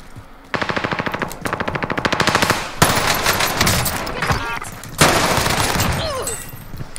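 NZ-41 rifle fire on Rebirth Island in Call of Duty, rapid automatic bursts of close, loud shots in rhythmic strings, followed by more gunfire and game effects, with brief talk.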